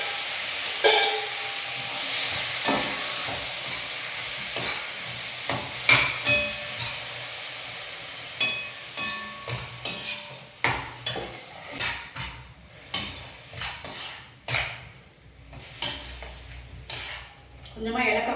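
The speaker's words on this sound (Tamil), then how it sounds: "பூசணிக்காய், அதை வந்து போட்டுட்டு வதக்கிப்போம்" Grated pumpkin is stir-fried in ghee in a pan, with a steady soft sizzle under repeated scraping and metallic clinks of a spoon against the pan, close and moderately loud.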